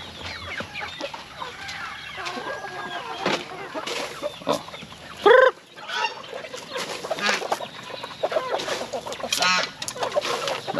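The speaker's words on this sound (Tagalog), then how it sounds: "May mga manok din doon sa labas." On a farm at feeding time, chickens cluck and geese honk close by in a busy, overlapping chorus, with one loud honk standing out midway.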